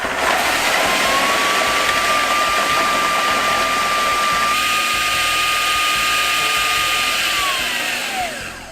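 A food processor whirs loudly and steadily as it chops a vegan sausage roll mixture, its motor whine rising in pitch partway through, then winding down as it stops at the end.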